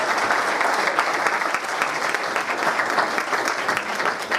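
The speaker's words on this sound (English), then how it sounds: "Rounds of applause." Steady applause from a crowd at a game show event, many hands clapping densely and continuously at a fairly loud level throughout, with no pauses.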